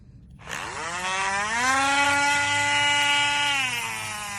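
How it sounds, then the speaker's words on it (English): A Dremel rotary tool grinds and rounds a dog's nail, a close, loud, high-pitched whine that spins up quickly and then holds steady, its pitch sagging slightly under pressure. "The Dremel is just gonna be following the pressure of my thumb and then rounding that nail up."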